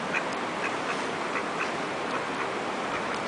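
Faint, repeated quacking from a duck at some distance, several short calls over steady outdoor background noise.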